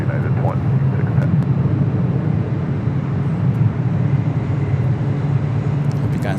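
An Avianca Airbus A320neo on runway 24 left at LAX, a steady low jet-engine rumble filling the scene at moderate distance while someone talks over it.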